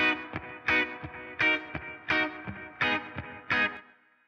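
Repeating echoes of a tape delay trail a vintage-style full mix, each loud hit followed by fading repeats in a steady rhythm that rings out at the end.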